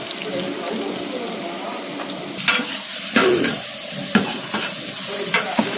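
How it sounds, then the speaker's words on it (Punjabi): Onions stirred and fried in a pan for a Punjabi halwai-style white chickpea and paneer curry, a steady close sizzle with scraping stirs and sharper clanks from the spatula throughout. "ਇਹ ਪਿਆਜ਼ ਨੂੰ ਭੁੰਨਾਂਗੇ ਆਪਾਂ ਚੰਗੀ ਤਰ੍ਹਾਂ"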